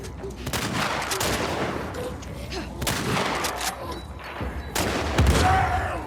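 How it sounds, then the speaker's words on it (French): A homemade bomb detonates in The Last of Us Part II, with a sustained roar of blasts and gunfire-like bursts, loud and dense throughout, with a heavier boom near the end. "La bombe que j'ai faite tout à l'heure."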